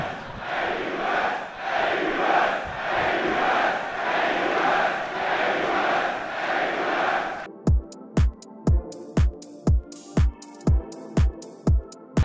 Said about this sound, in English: The crowd has been so fun